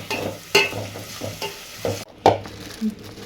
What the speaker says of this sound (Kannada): ಟೊಮೆಟೊ ಹಾಕೊಂಡು ಮೆತ್ತಾಗಿ ಟೊಮೆಟೊನ ಆಮೇಲೆ ಸ್ವಲ್ಪ ಕೊತ್ತಂಬರಿ ಸೊಪ್ಪು ಹಾಕೊಂಡು ಮಿಕ್ಸ್ ಮಾಡೋಣ